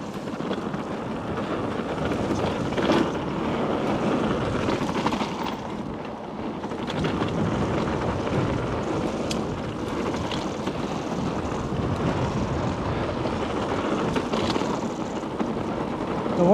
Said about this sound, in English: The wind has been fierce today.